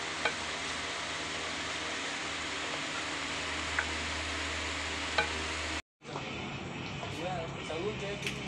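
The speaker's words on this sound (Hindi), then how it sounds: "ये चम्मच हिला रहा हूँ मैं कहीं" A spoon stirs kadai gosht in a pot over the heat in a village kitchen. Steady frying sizzle runs throughout with occasional metallic scrapes, and it cuts out briefly near the end before resuming.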